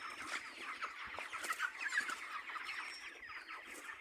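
Chickens cluck in a steady, moderately distant chorus of short overlapping calls, with no talk over them.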